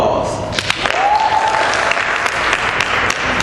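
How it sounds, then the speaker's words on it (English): Audience applause in a room at a STEM science presentation, a continuous wash of clapping at moderate loudness with voices audible underneath and a few whoops. "give her a round of applause."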